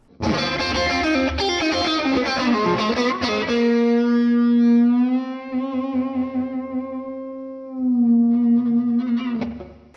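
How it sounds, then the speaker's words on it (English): Electric guitar with single-coil pickups through an overdriven Morgan amp model in Neural DSP software: a dense strummed passage, then a long sustained note ringing with rich overtones, followed by another chord. "This is the first blues tone that I heard and I just fell in love with it."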